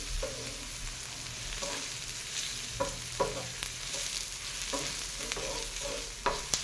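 Onion sizzles steadily in a hot cast iron pan, a constant crackling hiss broken by occasional scrapes and light clinks of stirring.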